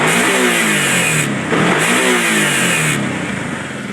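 A 2005 Kawasaki Brute Force 750 ATV revs hard at high RPM, its engine and CVT drive giving a loud, sustained roar with a steady high whine that rises and dips slightly across a few seconds, close by with no talking.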